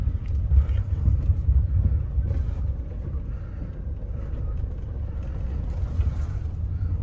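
A Maruti Alto K10 small compact car is driven on the road, its low engine rumble steady and close, with wind buffeting the microphone and a few faint bumps overhead.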